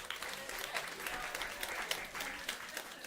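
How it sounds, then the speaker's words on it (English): An audience at a chefs' event applauds in-kind partners, a short burst of steady, moderately distant clapping from a crowd with no pause. "Give all of them a round of applause,"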